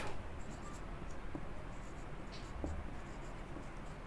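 A pen scratches a number onto paper or a board during an engineering beam problem, a steady soft scribble at close range over a low constant background hiss, with no speech.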